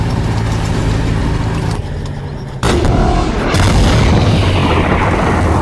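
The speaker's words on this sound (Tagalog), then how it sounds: "Lumitaw ang White Tiger upang atakihin ang pain na T-34 at agad itong winasak." A German White Tiger tank firing on and destroying a Soviet T-34 in a war movie, heard as heavy, sustained rumbling blasts with a sharp loud boom partway through, dense and close.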